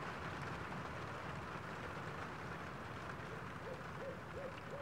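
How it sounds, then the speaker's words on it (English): An owl hoots a few soft times near the end over a steady, faint rushing background in a calm sleep-meditation soundscape; no separate flapping is evident. "You hear the owl flap from where it may have been and swish away"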